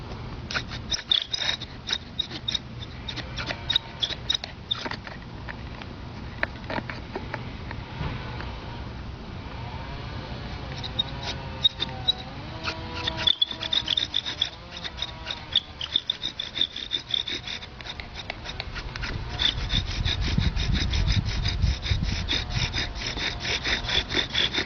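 A bow drill spindle turning in a rollerblade wheel bearing block, giving a continuous squeaky, grinding friction sound that rises and falls with each back-and-forth stroke of the bow, alone and close.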